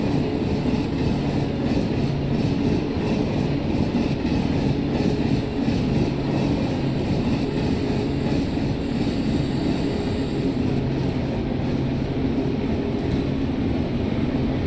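An express train slowing down in Train Simulator, a steady low rumble and drone of the locomotive and wagons that holds without a break, with faint tonal hums above it.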